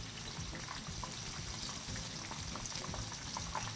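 Chicken tenders sizzle in hot oil in a fry pan, a steady dense crackle of frying that runs unbroken and fairly loud with small pops throughout.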